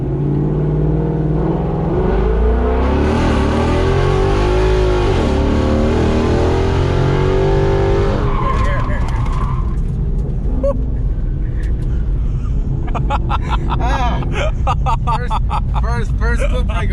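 A Ford Mustang S550 fitted with a Circle D torque converter revs hard against the foot brake, then launches with a loud rising engine roar and tire noise. Later sharp crackles and pops follow while someone shouts over it.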